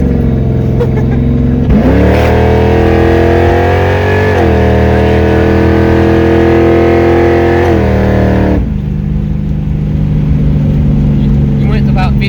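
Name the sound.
363 stroker Ford Mustang engine accelerating through the gears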